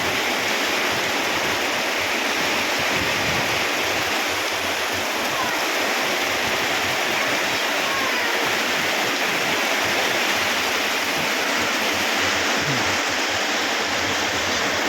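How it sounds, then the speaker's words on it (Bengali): Heavy torrential rain pours down in a dense, loud, unbroken roar that stays even for the whole stretch, with no talking heard. "আবার শুরু হয়ে গেলে মুষলধারায় বৃষ্টি।"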